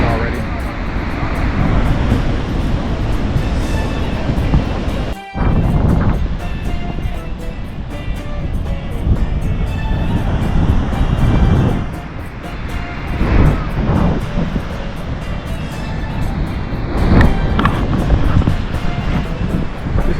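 Ocean waves wash against the coast at Tangier, with a continuous surf roar that is loud and close, mixed with gusty wind buffeting the microphone, while people talk over it.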